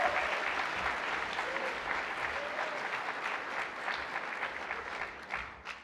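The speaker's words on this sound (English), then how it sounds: "let's give a round of applause for our fantastic MC," A banquet crowd at a chamber annual meeting and awards dinner claps warmly for the MC, a steady wash of applause with a few whoops that tapers off at the end.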